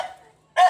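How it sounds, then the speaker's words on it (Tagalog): A small dog gives a single sharp bark, loud and close, after a short quiet pause, in a home setting. "Ayan, meron ditong masaya na namang aso."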